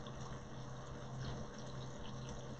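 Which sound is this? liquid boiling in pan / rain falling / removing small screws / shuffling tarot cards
liquid boiling in pan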